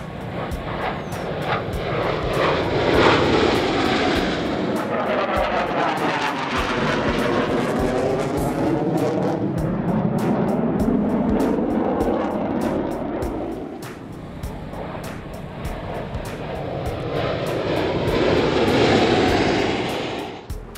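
Jet planes fly overhead in formation, a loud continuous roar that swells and sweeps with a shifting whine, easing briefly near the middle before building again, with no voices.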